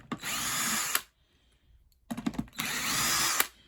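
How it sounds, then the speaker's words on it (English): Cordless Aldi drill running in two bursts, each a loud whirring spin of about a second, separated by a near-silent pause and a few clicks and handling knocks before the second run. "Right, drill."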